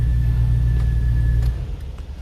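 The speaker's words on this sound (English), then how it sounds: "We're going to turn off the vehicle." A Hummer H2 engine idling with a deep, steady low rumble that cuts off after about a second and a half, leaving a faint fading hum.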